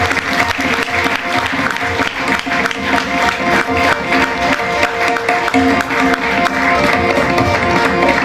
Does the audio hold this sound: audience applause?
yes